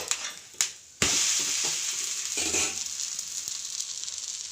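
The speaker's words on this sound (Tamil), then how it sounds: "இப்போ தோசை நல்லா செவக்க வேகட்டுன்னு திருப்பணும்" Dosa batter hits a hot pan and sizzles loudly in a steady, bright hiss that holds for several seconds, preceded by a couple of scraping clinks of utensils on the pan.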